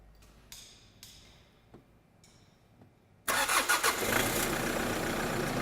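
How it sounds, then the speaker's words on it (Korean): A diesel car engine cranks and catches during a workshop diagnostic check, after a few faint clicks, then settles into a loud, steady idle with no talk over it. "자, 시동 걸겠습니다."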